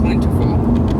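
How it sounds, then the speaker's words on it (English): A 2012 Volvo S60 T5 with a turbocharged five-cylinder engine, front-wheel drive, is driven on the road, its steady low engine and road drone running continuously beneath close speech. "the power in this turbocharged 5-cylinder is plentiful"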